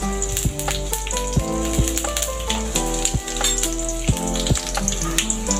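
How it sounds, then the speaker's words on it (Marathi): Cumin seeds and crushed garlic fry in a ladle of oil for an onion-stalk and moong dal vegetable dish, a steady hiss and crackle running under melodic background music with repeated soft beats. "जिरं चांगलं परतून घ्यायचं, नंतर ठेचलेला लसूण टाकायचा"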